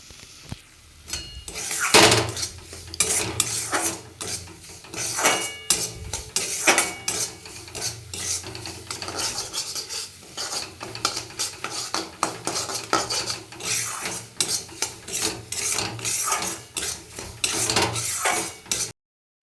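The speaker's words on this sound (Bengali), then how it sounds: "সুজিটা ভালো করে ভেজে নেব লাল করে।" Semolina frying in oil and being stirred until it turns red-brown. A utensil scrapes and clanks repeatedly against the pan in busy, irregular strokes, loud and close, over a light sizzle.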